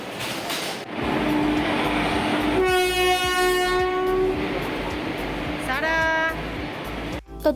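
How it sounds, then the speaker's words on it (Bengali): A train rumbles in with two loud, sustained horn blasts, the second shorter, over rail noise and crowd voices at a platform. "ট্রেন চলেও এসেছে"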